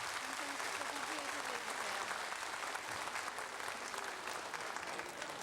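A studio audience on a live broadcast about reuniting separated families applauds a reunited father and daughter with steady, continuous clapping, heard at a moderate level.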